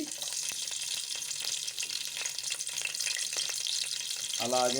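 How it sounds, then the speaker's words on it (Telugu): Green chillies frying in hot oil for poha mixture give a steady, bright sizzle and crackle throughout, close and fairly loud, with a brief spoken word near the end. "ఇలా ఆయిల్ అయితే మంచిగా వేడైన తర్వాత ఇందులోకి పచ్చిమిర్చి"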